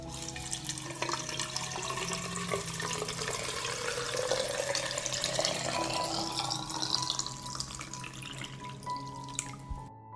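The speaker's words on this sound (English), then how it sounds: "This is how I pour the boiling water into the jars." Boiling water poured from a kettle into glass jars packed with tomatoes, a continuous close trickling and splashing with rising pitch as the jars fill, ending with a few drips and a soft clunk.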